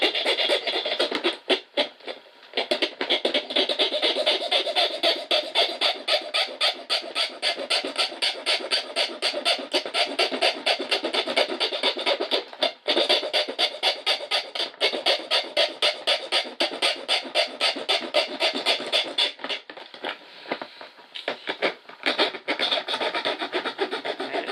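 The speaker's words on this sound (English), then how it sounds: "I'm going to use this finer file, and we're just going to work those corners around" A finer hand file rasps rhythmically across metal while shaping a homemade nipple wrench, with rapid, even back-and-forth strokes that continue steadily and close up, pausing only briefly a few times.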